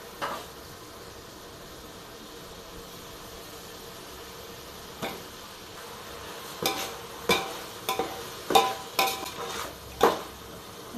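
Ginger garlic paste sizzles softly in a pan for chicken biryani while a spoon stirs it, giving a steady low frying hiss broken by several sharp scraping and tapping strokes against the pan.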